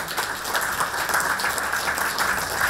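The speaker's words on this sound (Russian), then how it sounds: "Под бурные аплодисменты во Дворце правосудия прошла почетная церемония отставки председателя суда Евгения Мартынова." Applause at a court chairman's retirement ceremony in a Palace of Justice, a sustained, even burst of clapping from a gathered crowd, moderately loud and unbroken throughout.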